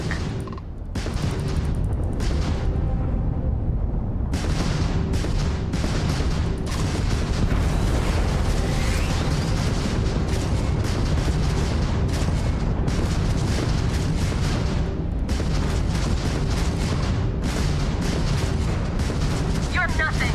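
Ship weapons firing in Starfield space combat on Very Hard, a dense, continuous barrage of booming shots and blasts layered over engine rumble and game music for the full stretch, with voices talking over it.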